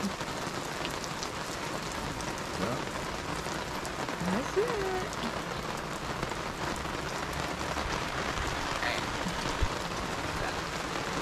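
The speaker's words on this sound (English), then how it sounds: "Let me show you how, how much it's raining up here." Heavy rain pattering steadily on surfaces, a dense continuous downpour, with a voice briefly speaking over it.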